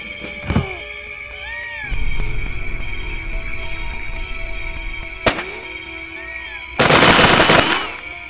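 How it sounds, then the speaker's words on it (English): Gunfire in a Tom Clancy video game comes as sharp single shots and then a loud sustained burst of automatic fire, with an electronic tone humming underneath. "Weapon fire!"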